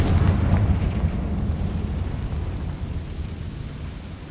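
Spell explosions in the video game Hogwarts Legacy: a loud, deep boom at the start followed by a long, rumbling low-end decay that slowly fades.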